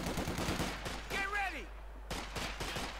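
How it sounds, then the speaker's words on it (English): MG42 machine gun firing in the Company of Heroes 2 strategy game, heard as rapid bursts of game gunfire mixed with battle effects while a commentator talks over it. "MG42 need to fire away"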